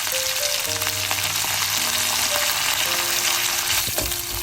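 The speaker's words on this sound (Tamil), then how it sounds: "கொஞ்சம் சின்ன சீரகம் கூட கருவேப்பங்களை சேர்க்க போகிறோம்" Cumin seeds and curry leaves sizzle and crackle steadily in hot oil while brinjal curry is being made, with a constant, close frying hiss throughout and no voices.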